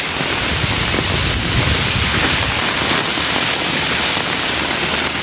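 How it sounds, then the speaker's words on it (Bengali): Strong gusting wind and big waves batter a large fishery during Cyclone Remal, a loud, constant roar of wind buffeting the microphone over rushing water, with no voices. "প্রচুর বাতাস বাহিরে দেখেন অনেক বড় বড় ঢেউ"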